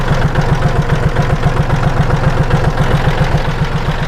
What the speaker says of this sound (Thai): ดูเครื่องยนต์ครับทีนี้ ครับเครื่องดีนะครับ